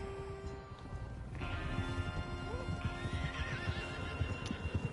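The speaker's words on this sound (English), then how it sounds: "Baylock's a beautiful horse." A horse whinnies in Red Dead Redemption 2, a rising, wavering neigh over soft hoof clip-clops and ambient game background, close and fairly loud.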